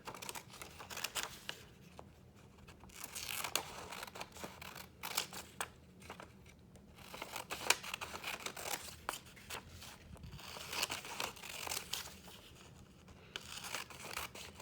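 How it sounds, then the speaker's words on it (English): Scissors snipping along straight lines in a paper flip book, quiet and close, with irregular bursts of cutting and rustling paper and no talking. "So we're going to go ahead and cut on the straight lines, but stop before we get to the edge."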